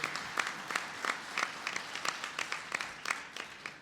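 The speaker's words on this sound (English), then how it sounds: "Give Tom Vilsack a round of applause." Scattered clapping from an audience, a moderate round of applause with distinct individual claps, steady for a few seconds.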